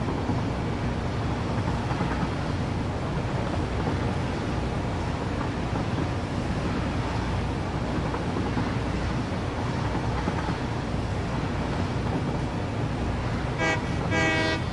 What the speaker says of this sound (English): Honk that horn.